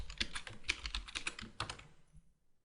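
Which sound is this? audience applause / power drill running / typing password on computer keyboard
typing password on computer keyboard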